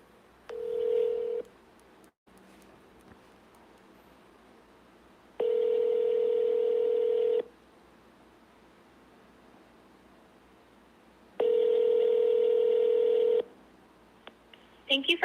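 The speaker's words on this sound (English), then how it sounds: "I'm going to call the main phone line." Telephone keypad tones and ringback while calling a country club property owners association's main phone line, a short tone burst followed by two long, evenly spaced ring tones with quiet gaps between them.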